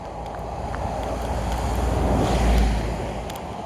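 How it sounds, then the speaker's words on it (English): A car approaches and passes on a road on the West Highland Way, its broad rumble swelling gradually to a peak and then fading, mixed with wind buffeting the microphone outdoors. "Car coming."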